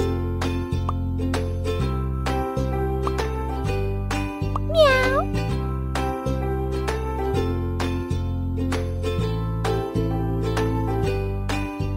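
A cartoon cat meows once in a pet shelter dress-up video game, a bright rising-falling call cutting through a steady, looping synth music track.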